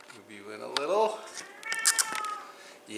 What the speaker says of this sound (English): That's my cat, Tiger, offering her unsolicited opinion.